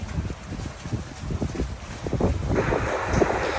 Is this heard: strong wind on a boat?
yes